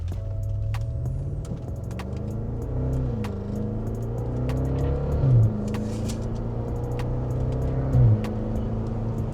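A BMW N63 twin-turbo V8 engine idles with a steady low hum, then revs up twice in quick bursts near the end, each swelling briefly before settling back.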